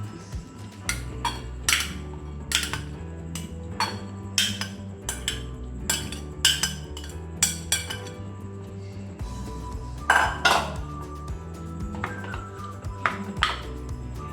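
A spoon mixes mango pieces into cooled oil for a special mango pickle, producing repeated sharp clinks and taps against the vessel in an irregular rhythm, close and fairly quiet, with no voices.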